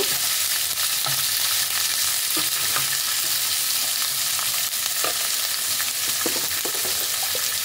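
Red capsicum and mixed vegetables sauté in a little oil for a healthy diet chicken dish. A steady, close sizzle runs throughout, with soft scraping and stirring clicks scattered over it.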